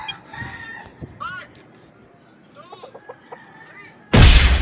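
A rooster crows and clucks at a cockfight in Malabon, with short fowl calls and voices nearby before a sudden loud burst of crowd noise at the end.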